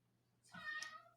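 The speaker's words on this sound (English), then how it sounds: "That's my cat just telling me that she loves me." A pet cat gives a single short meow, close but fairly quiet, over a faint steady background hum.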